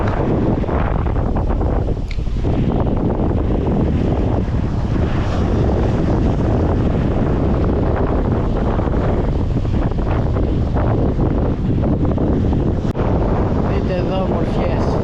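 Strong wind roars across the microphone on the Corfu coast, with rough sea waves churning beneath in a constant, loud wash and no pauses.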